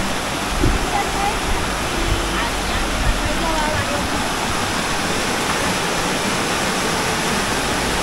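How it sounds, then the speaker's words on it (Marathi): A loud waterfall roars continuously, a thick unbroken rush of water close by. "सुंदर धबधबा एकदम"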